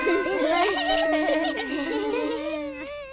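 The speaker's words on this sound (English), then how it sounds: "Can you find your way through the beehive like real bees? Bzz, bzz." Cartoon bees buzzing in a beehive play room, a continuous wavering drone with tonal, musical quality that holds steady for about three seconds before fading slightly.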